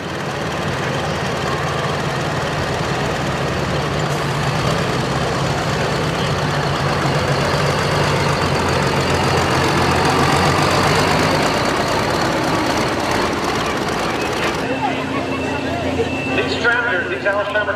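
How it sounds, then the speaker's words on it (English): Pulling tractor from an Alabama build with a 427 cubic inch motor, small rotary pump and small turbo, roaring loud and steady at a truck and tractor pull, its dense engine din continuing almost throughout before easing near the end. "These Alabama tractors came off the factory with about a 427 cubic inch motor, a little small rotary pump, a little small turbo."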